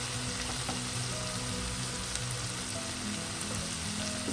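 Turmeric, chili and coriander powders fry in hot oil for an okra curry, giving a continuous dense crackling sizzle at even volume throughout, with occasional faint pops and no talking.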